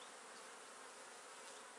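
Bees at a beehive frame hum in a dense, steady buzz, close and continuous without a break, with no voices.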